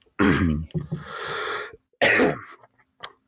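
Two harsh, loud coughing bursts close to the microphone, the first a long rough fit, then a shorter one after a pause, with a faint click at the end.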